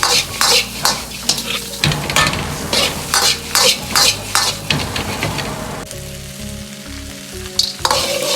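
Chitterlings and chicken with red chili rings stir-fried in a wok, a loud steady sizzle broken by repeated scraping strokes of the spatula in an uneven rhythm, with no talking.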